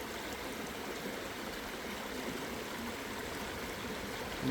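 A river flows in a steady, even rush, heard close and alone with no voices. Someone is panning for small gold along its bank.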